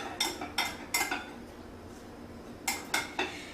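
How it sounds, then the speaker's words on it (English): A spoon clinks and scrapes against a bowl in five quick bursts of mixing, close and bright, with short pauses between strokes and no talk. "Let me get a spoon. And you just mix that up."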